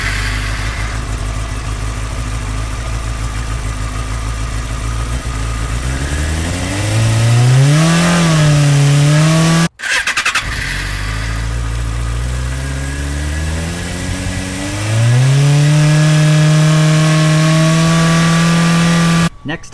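A Yamaha FZ6 motorcycle engine fires up close by, climbing through a couple of rising revs before settling into a loud, steady idle, with a brief cut partway through and another rev-up before idling again.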